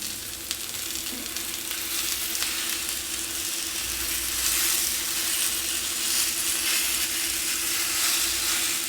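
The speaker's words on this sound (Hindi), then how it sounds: "बहुत जल्दी से फ्राई हो जाता है, देर नहीं लगती इसे फ्राई होने में" Banana slices shallow-frying in oil in a pan make a continuous, close, even sizzle with faint crackle throughout, and no voices.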